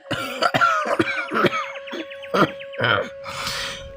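Repeated harsh coughs come in a rapid series of short bursts, close and loud, with a steady tone humming underneath.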